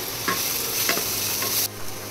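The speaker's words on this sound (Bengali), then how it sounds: "জিরে গুঁড়ো, ধনে গুঁড়ো, জিরে গুঁড়ো সব মশলা দিয়ে একসাথে আমি কষিয়ে নেবো" Onion frying in a pan with turmeric, Kashmiri chilli powder and other ground spices for a paneer curry, a steady sizzle broken by a few sharp stirring scrapes, close and fairly loud before cutting off abruptly near the end.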